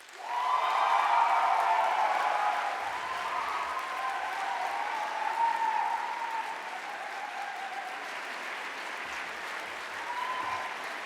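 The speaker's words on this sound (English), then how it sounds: "we've heard 12 speeches, and you've applauded each of those speeches" Audience applause after a speech at a debate grand final, a sustained wash of clapping from a large hall audience that swells early and then holds steady without talk.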